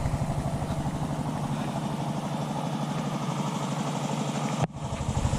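A diesel engine on a farm machine chugs at a steady, rapid idle-like pulse, fairly close and constant, then cuts briefly near the end before resuming; no talking.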